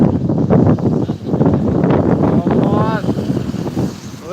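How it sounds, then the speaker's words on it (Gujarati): Strong, cold gusting wind ahead of rain in Vallabhipur taluka roars and buffets the microphone in a dense, steady rush, with a brief voice-like tone rising near the end. "જોરદાર ઠંડો ઠંડો બરફ જેવો પવન"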